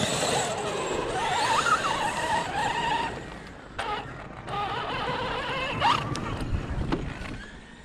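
An HPI Baja 5SC RC car drives off-road with a loud, revving engine whine that rises and falls as it accelerates, with gravelly scuffing and brief drops in pitch.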